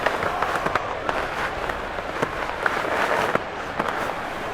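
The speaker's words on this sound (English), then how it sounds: "How about some applause for the defense there?" Stadium crowd in the Madden NFL 22 football video game applauds and cheers, a steady wash of clapping and roar with scattered sharper claps, fairly soft and distant.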